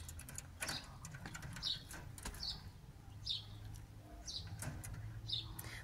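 Quail chicks in a breeding pen give a series of short, high chirps at roughly regular intervals, moderately close, over low background rumble and faint rustling.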